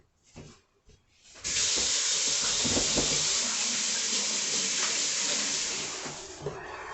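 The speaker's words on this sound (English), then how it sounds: "let me wash my hands right quick." Tap water runs steadily into a sink while hands are washed in a home kitchen during Sunday dinner prep, a loud continuous hiss starting after some brief handling noises and tapering slightly near the end.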